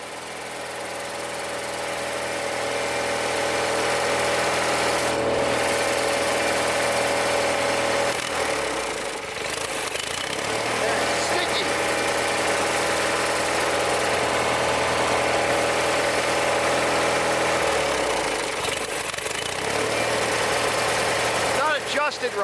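A 20hp Kohler Magnum engine on a 1980s Simplicity Sunstar tractor idles close by with a steady, even drone. The pitch dips briefly twice partway through and then settles back.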